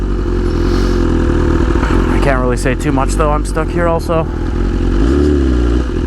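A motorcycle rides past cars stuck in traffic, its engine droning steadily and close throughout while the rider talks over it.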